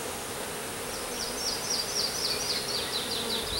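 Honeybees in a hive buzz densely and continuously nearby, with a few individual insects whining past in rising and falling tones over the steady hum.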